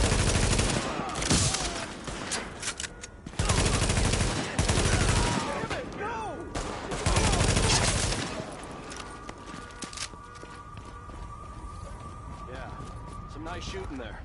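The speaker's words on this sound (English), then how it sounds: "Nice shooting there." Gunfire in The Division, with loud rapid bursts of automatic weapons in several clusters over a wailing siren, then fading to quieter scattered shots, while voices talk over the fighting.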